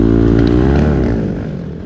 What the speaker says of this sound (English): engine has very luggable power down low and it's very difficult to stall, yet it'll scream on top end when you need it